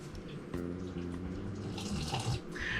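Water pours steadily from a tap into a batter of flour for vegan buffalo cauliflower, a continuous running splash close by with slight drips near the end.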